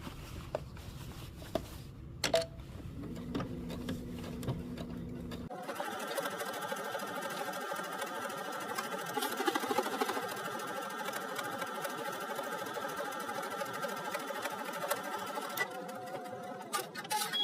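A home sewing machine stitches a seam on a sundress, running in a steady, continuous whir for most of the clip after a few seconds of quiet handling and fabric rustle, loud and close.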